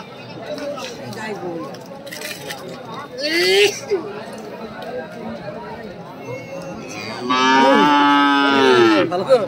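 Cows and cows with calves at a busy rural cattle market in Saksar moo loudly and close by, two long drawn-out calls among constant chatter of buyers and sellers talking nearby.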